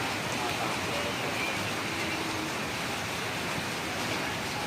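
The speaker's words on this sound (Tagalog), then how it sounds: "Sama ng ulan." Steady, dense rain hiss fills the whole stretch, a constant broadband wash with no breaks, like a heavy downpour close by, as a typhoon approaches.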